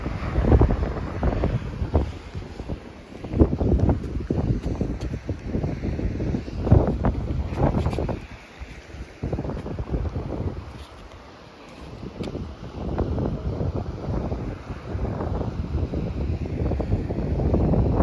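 Strong wind buffets the microphone at Belmar beach, with crashing surf and waves rolling in throughout, loud and continuous with gusting swells and brief lulls.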